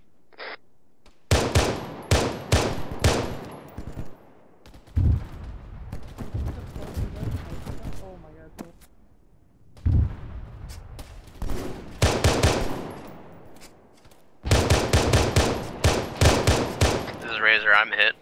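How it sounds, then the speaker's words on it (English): Heavy automatic gunfire rattles in loud bursts in the military shooter Arma 3. Rapid volleys come in several clusters separated by brief lulls, with booming impacts, and voices talk over the shooting. "I'm hearing sniper fire"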